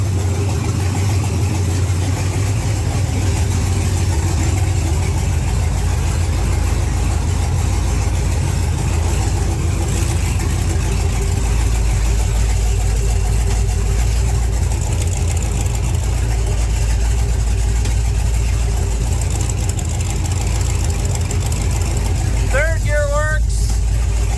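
An LS-swapped old bracket drag car engine idles with a steady, loud, droning rumble that holds constant throughout, with a person talking over it.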